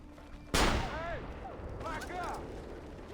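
In Assassin's Creed Revelations, a single loud gunshot cracks close by and decays into a lingering echo over ambient game noise, with faint whistling swoops following.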